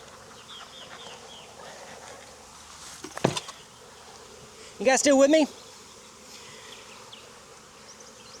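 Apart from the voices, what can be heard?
honey bees buzzing at an opened beehive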